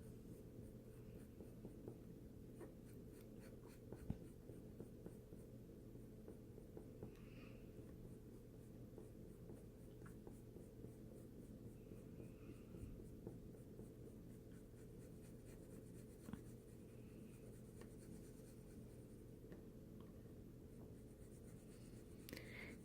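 Soft, steady scratching of a brand new colored pencil shading on paper, close and quiet, continuing without pause against a low background hum.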